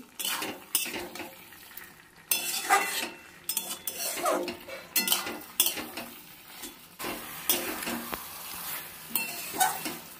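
Drumstick and potato curry being sautéed in a pan, with a utensil scraping and clattering against the metal in irregular close bursts over a steady low sizzle.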